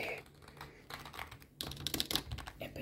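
Typing on a Red Dragon computer keyboard indoors, a close run of quick clacking keystrokes that grows louder and denser in the second half.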